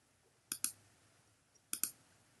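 Two quick double-clicks of a computer mouse, crisp and close, separated by a second or so of near silence.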